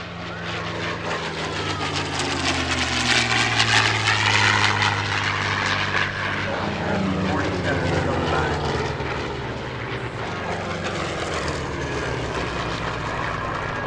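A P-51C Mustang warbird with a Rolls-Royce Merlin V12 engine makes a parade pass at an air show, its propeller drone swelling loud and then fading as the plane goes by, with a faint announcer voice underneath.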